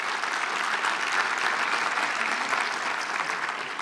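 Steady applause from a college commencement audience, a dense wash of clapping that holds evenly for about four seconds with no speech over it.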